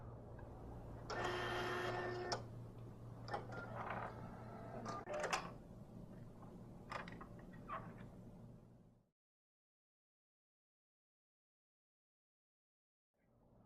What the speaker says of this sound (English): Once the driver has installed, print a sample card.